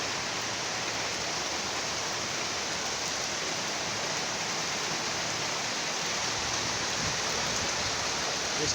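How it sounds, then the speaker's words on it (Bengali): Light rain falls in a steady, unbroken hiss heard from a rooftop, fairly close and uniform throughout with no voices. "সবাই দেখুন বৃষ্টি হচ্ছে আমাদের এখানে"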